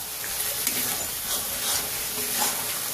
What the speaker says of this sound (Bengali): এইভাবে নাড়াচাড়া করে আমি রান্না করে নেব